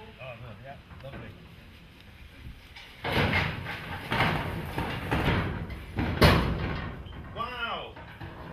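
Wooden shed doors swing open in rough, loud scrapes and knocks from about three seconds on, with people talking beforehand and murmuring over the clatter.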